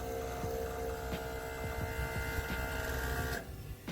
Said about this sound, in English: So that was the noise of the compressor.